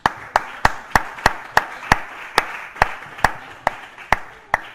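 A church congregation claps in unison during a service, producing sharp, evenly spaced claps about three per second that stay steady and fairly loud, with no speech over them.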